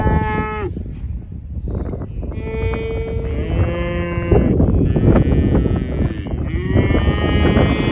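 Cattle and calves moo across a pasture, with several overlapping long, loud lowing calls of varied pitch, some deep and some higher and bleating, rising and falling continuously through the scene.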